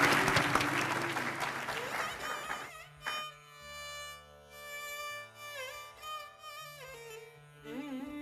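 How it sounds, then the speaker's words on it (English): Audience applause at a Bharatanatyam arangetram rings out loud and dense for a few seconds, then fades into sustained instrumental music with a steady drone and melodic phrases. "Again, another round of applause."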